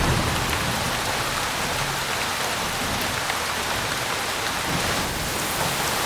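Heavy rain pours steadily on city streets, a dense, even hiss of drops on surfaces that fills the whole stretch at constant loudness, with no voices.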